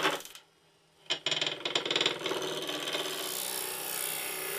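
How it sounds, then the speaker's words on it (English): A spindle roughing gouge cuts a segmented wood blank spinning on a lathe. After a brief tap, it settles into a continuous, close, raspy scraping hiss with fluttering chatter. "Using a spindle roughing gouge, I round the blank."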